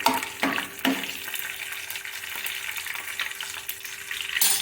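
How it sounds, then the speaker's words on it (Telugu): Mustard seeds and cumin temper in hot oil, producing a moderate crackling sizzle with sharp popping bursts at the start and end over a continuous frying hiss. "ఆవాలు వేసాను కదా, ఇప్పుడు ఆవాలు కొంచెం చిటపటమన్న తర్వాత జీలకర్ర"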